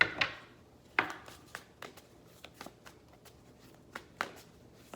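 Tarot cards being shuffled by hand, a sparse run of crisp riffles and light taps, some sharper than others, close and quiet.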